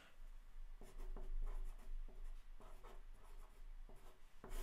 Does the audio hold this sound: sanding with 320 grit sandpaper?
no